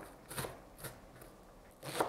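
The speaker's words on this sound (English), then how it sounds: "I'm going to prepare the vegetables using 1/2 of a medium onion. You just chop it small." A knife chops half a medium onion, giving four separate crisp thuds on the board, spaced unevenly and fairly faint, with nothing else audible between them.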